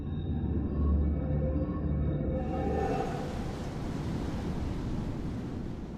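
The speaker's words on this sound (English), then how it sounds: "The reef here is so short, so the waves are breaking right there." Ocean surf breaking on a short, steep reef ringing an ancient volcanic island, a steady loud roar of crashing waves with wind buffeting the microphone.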